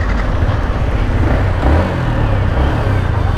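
A 2022 Yamaha MT-15 V2 motorcycle engine runs loud and close as the bike pulls away. The engine note is steady and rumbling, with some wind noise, and there is no speech.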